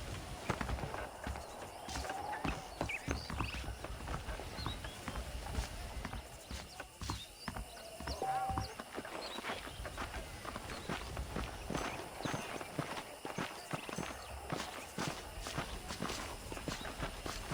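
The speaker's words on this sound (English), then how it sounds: "The horses are saddled up over here." Horse hooves in Red Dead Redemption clip-clop steadily on hard ground at a walking pace, a continuous rhythmic clatter with faint ambient noise behind it.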